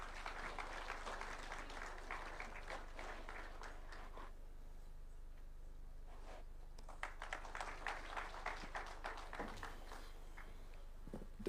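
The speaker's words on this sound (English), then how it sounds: "A round of applause, please." Applause from a ceremony audience at a Katiba @16 constitution celebration in Nairobi, heard as faint, distant clapping in two bursts separated by a quieter gap.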